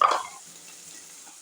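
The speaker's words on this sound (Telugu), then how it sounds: "బెండకాయలు మంచిగా ఫ్రై అయినాయి" Okra frying in a pan gives a soft, steady sizzle after a short stirring scrape at the start.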